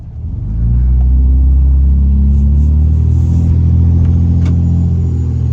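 A 3rd gen Cummins diesel engine in a fully loaded pickup truck runs, building quickly to a loud, steady low rumbling drone that holds evenly up close.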